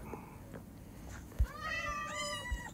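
Kitten mews in the Minecraft video game, a few short, thin meows in quick succession near the end, fairly quiet with faint game sounds around them.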